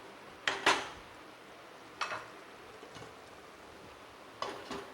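A metal lid goes onto a pot of dudh shukto, a milky vegetable dish with ghee and kasuri methi, on a low flame. A few sharp, close clinks and clatters come in separate bursts over a quiet background.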